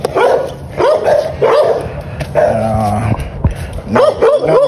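Several dogs in a kennel barking loudly and close in repeated bursts, with yips and whimpers mixed between the barks.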